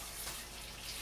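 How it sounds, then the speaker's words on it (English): Hot water running steadily from a kitchen tap into a cup, a soft continuous hiss and splash close by with no pauses or talk. "I just need to get 1 cup of hot water"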